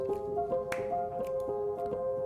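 Crisp finger snaps land at a steady pulse over sustained synth tones in an electronic classical ambient production, about six sharp clicks cutting through the layered pad, with no voice.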